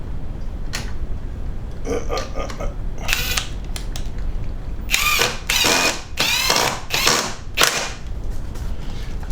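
Electric screwdriver on a low torque setting driving screws into a model railway shunting layout, with several short bursts of whirring and clicking, some close together, over quiet room noise.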